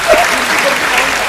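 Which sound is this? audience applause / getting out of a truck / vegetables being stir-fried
audience applause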